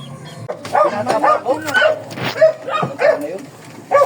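Dogs bark and yip in short bursts close by, with a whiny, excited edge, mixed with some background chatter.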